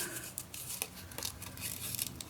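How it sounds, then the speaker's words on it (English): Scissors snip through paper or card while cutting around rose motifs for a Midori-style journal cover, giving a run of close, crisp crinkly cuts at an uneven pace with no talk. "Now let's just cut in here"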